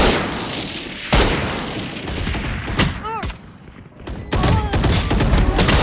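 Rapid bursts of gunfire and booming impacts from a Valorant esports match, with loud, dense volleys of rifle fire and short pauses between them, a commentator's voice faintly underneath.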